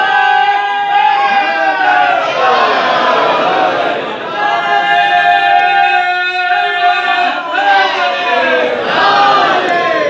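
Crowd of mourners at a Shia majlis during azadari loudly chanting slogans in unison, a dense, sustained massed-voice chant with rhythmic rises and falls throughout.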